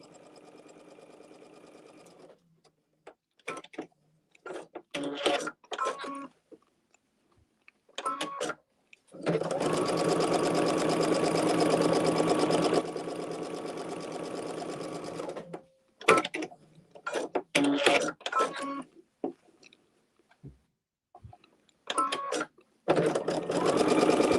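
A sewing machine stitches around the perimeter of a quilt block, one long sustained run in the middle framed by short stop-start bursts and clicks, close and clear, without speech.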